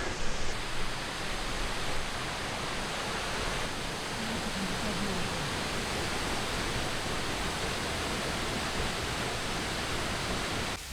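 A waterfall in Bali gives a steady, dense roar of falling water, loud and unbroken throughout, with no talk.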